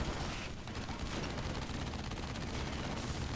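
Sentry turrets fire in AirMech Strike, a dense rapid crackle of overlapping shots running steadily throughout at moderate level, with no talk.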